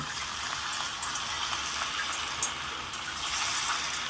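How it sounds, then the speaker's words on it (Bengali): Small green papaya pakoras dropped into hot mustard oil fry with a steady, loud hissing sizzle that swells slightly near the end, alone without talk. "ছোট ছোট করে পকোড়াগুলোকে আমি তেলের মধ্যে দিয়ে দেব"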